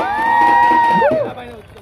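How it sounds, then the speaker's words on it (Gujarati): An audience at a fashion ceremony in Rander, Surat, cheers loudly, with a prominent rising and falling whoop over the crowd noise that fades after about a second. "જોરદાર તાળી થઈ જાય"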